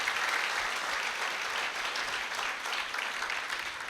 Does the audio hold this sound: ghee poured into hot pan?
no